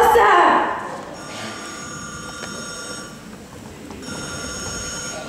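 A cellular car phone rings on stage during a school musical production of The Wedding Singer, a repeating electronic trill heard in bursts over a noisy hall, following a brief swell of sound at the start.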